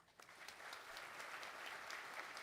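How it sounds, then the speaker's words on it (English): Audience at a university convocation ceremony giving a round of applause, a steady crackle of many hands clapping in a large hall, fairly faint and distant, rising slightly at the start and holding even. "I request everyone to give a big round of applause."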